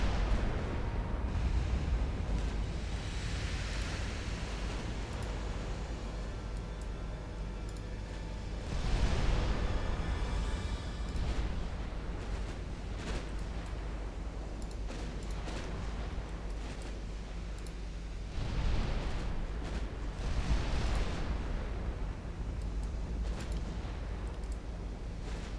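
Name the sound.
naval shells hitting ships in video game Ultimate Admiral Dreadnoughts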